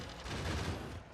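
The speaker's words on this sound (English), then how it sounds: "Gun turrets." Gun turrets firing in the factory-building game Factorio, a quick burst of rapid low thumping shots that runs without a break for about a second.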